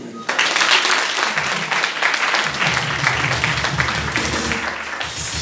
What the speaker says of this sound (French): Acclamez-vous.